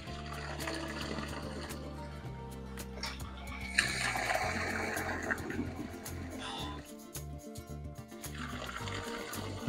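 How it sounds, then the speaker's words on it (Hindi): A bore motor pump fills an upper water tank, giving a steady flow of running water over a low motor hum, with the water level rising in the middle. "ये सब में जब पानी नहीं रहता तो बोर मोटर से फिल कर लेता है ऊपर का टैंक"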